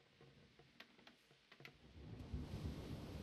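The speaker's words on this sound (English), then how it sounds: "It's a storm." A thunderstorm in Kingdom Pizza Delivery begins with scattered sharp ticks and faint taps, then builds into a loud, low rumbling roar of thunder and rain toward the end.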